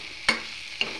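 Dried small fish (shrimp) fry in a pan over a low flame, heard as a faint, steady sizzle broken by two sharp spatula scrapes about half a second apart.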